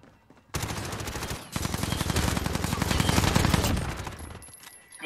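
Rapid sustained automatic gunfire from a shooter video game, a dense close burst of shots lasting several seconds before tapering off.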